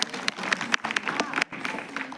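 A school audience of students claps for a schoolgirl, brief uneven applause at moderate distance mixed with crowd murmur and a voice talking over it, with a short break partway through.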